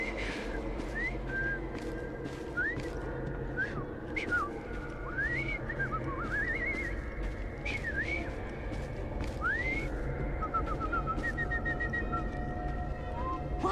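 A man whistles in Assassin's Creed Syndicate, a run of short rising and falling tune phrases over a busy street ambience with clicks and murmuring.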